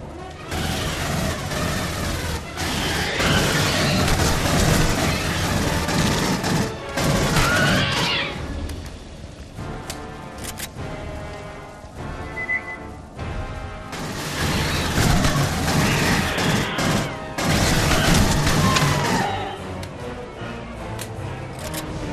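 Explosions and heavy gunfire in Aliens: Colonial Marines, a dense loud barrage of blasts and booming impacts with rattling debris, easing briefly midway before another intense burst.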